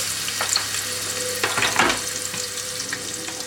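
Onions frying in a pan give off a steady close sizzle throughout, with soft scraping stir sounds near the middle.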